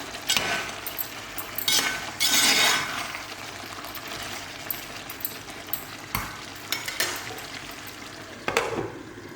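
A spoon scrapes and clinks through chicken curry with garam masala in a hot pan, in several short stirring strokes over a soft, continuous sizzle; close and fairly quiet, with no talking.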